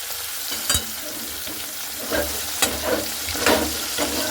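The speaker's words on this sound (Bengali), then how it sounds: "তো আমি এভাবে 3টে করে মাছ ভেজে নিচ্ছি।" Fish pieces fry in a pan, three at a time, for a Bengali fish curry, giving a steady close sizzle with a few sharp crackles and spatters.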